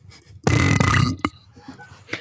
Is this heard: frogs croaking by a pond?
no